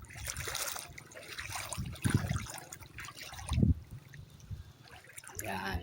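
River water trickles and flows steadily at Barangay Sampaloc resort. The sound is faint and continuous, with a voice talking over it throughout.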